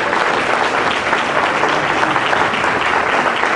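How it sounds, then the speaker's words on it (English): An audience at the 2010 ISS Festival IFBB pro bikini event applauds the competitors, a loud, dense, continuous wash of clapping with no pauses. "give them all a big round of applause."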